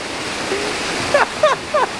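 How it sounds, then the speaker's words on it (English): Water sprayed at a theme park water ride at Universal Orlando Resort, a steady hissing gush of spray with a few short higher squeaky or vocal chirps near the end. "They're shooting water"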